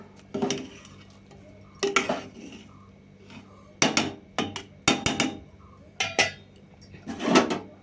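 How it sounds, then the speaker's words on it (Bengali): Metal spoon scraping and knocking in a pot while stirring rice cooked with onion, green chilli and nigella seeds, in irregular bursts of clanks and scrapes with quiet gaps between, close by. "ভাত করছে নাড়া দিয়ে একটু"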